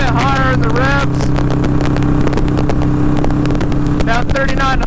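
A custom Harley-Davidson Iron 883 engine drones steadily at 70 mph, around 3,900 rpm, with wind rush, continuous and fairly loud, with a voice talking over it at times.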